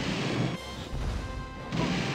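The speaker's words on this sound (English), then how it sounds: "God, that explosion is so loud." An explosion in the video game Banjo-Tooie, a loud, dense crashing boom that fills the sound, briefly drops, then surges back, heavy and close throughout.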